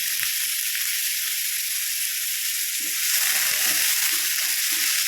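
Onions sautéing with curry leaves in a pan for a bitter gourd curd curry, giving a steady close sizzle and hiss that grows louder partway through as the leaves hit the oil, with faint stirring scrapes and no talking.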